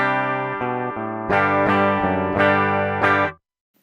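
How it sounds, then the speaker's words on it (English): Dry, unprocessed electric guitar plugged straight into a Line 6 POD Express plays a series of clean picked chords in an even rhythm, up close, then stops abruptly into silence. "So the DI sound is a typical straight to the point DI sound."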